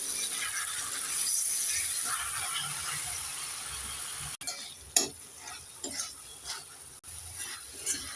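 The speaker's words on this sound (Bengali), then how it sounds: "নেড়ে চেড়ে মশলার সাথে পালং শাকটাকে আবারও দু মিনিট ভালো করে ভেজে নেব" Spinach frying in a pan with spices, a soft continuous sizzle with scattered scraping knocks of stirring, quiet and close, with no voices.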